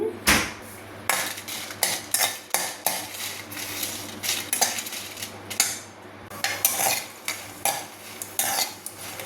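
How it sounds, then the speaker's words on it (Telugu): Dried red chillies fry in oil in a pan while a metal spoon stirs and scrapes against it, giving repeated close clinks and scraping strokes over a faint sizzle, with no voices. "అదే బాండిల్లో నూనె ఉంది కదా ఈ ఎండుమిరపకాయలు కూడా వేయిద్దామండి"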